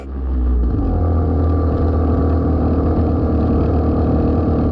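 A 1960 BSA Bantam D7 motorcycle engine runs in second gear while riding, a loud, close, steady two-stroke drone after a brief lower start, with no talk over it.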